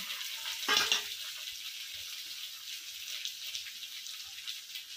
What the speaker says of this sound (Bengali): স্বাদ মতো নুন দিয়ে ভালো করে মশলাটাকে কষিয়ে নেব